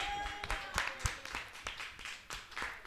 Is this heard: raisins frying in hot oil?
no